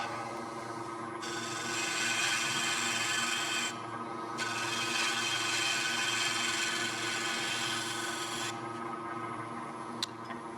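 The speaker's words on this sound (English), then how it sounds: "using the bowl gouge" A bowl gouge cuts a poplar wall plaque spinning on a wood lathe, giving a continuous rough scraping, rasping hiss over a steady motor hum, swelling and easing in long passes with no talking.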